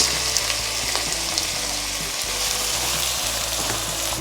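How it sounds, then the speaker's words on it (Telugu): Onions frying in hot oil with cinnamon, cloves and green chillies, a dense continuous sizzle with faint stirring scrapes, loud and close. "ఆనియన్స్ బాగా మగ్గాలి"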